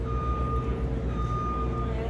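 A vehicle's steady electronic warning beep drones in the background of a busy Creativation 2020 craft trade show hall, continuous and fairly prominent over the crowd noise.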